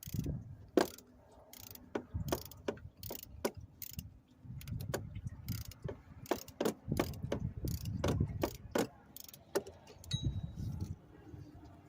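A ratchet fitted with a 15 mm short socket turns a fastener on the 3.8 L engine of a 2008 Buick Lacrosse CX, producing close, repeated bursts of quick clicking with short pauses and faint metallic clinks between them.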